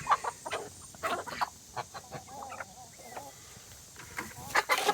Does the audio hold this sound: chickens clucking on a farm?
yes